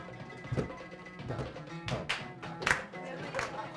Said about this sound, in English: This is 1, 2, 3, 1, 2, 3, 1, 2, clap.